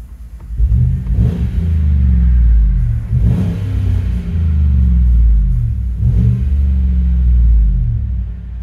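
A 2015 Chevy Tahoe with a 5.3L V8 and a muffler delete revs three times from idle, each swell rising into a deep, loud rumble over a steady exhaust drone. No one speaks.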